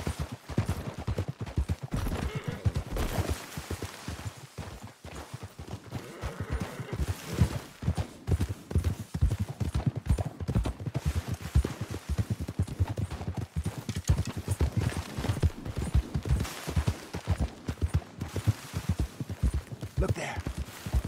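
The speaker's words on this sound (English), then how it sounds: "Get a hold of that horse, will you?" Horse hooves clip-clop steadily through a Red Dead Redemption 2 game scene on PS4 Pro, a continuous rhythmic trot mixed with game ambience and occasional character dialogue.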